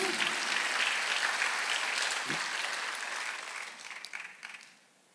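A church congregation claps during a Sunday worship sermon, a dense steady patter of applause that fades out toward the end.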